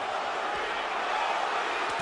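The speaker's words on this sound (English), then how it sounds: "The crowd is coming alive" Boxing arena crowd at the Mosley versus Mayweather fight roars in a steady, dense wash of cheering and shouting that holds without a break throughout.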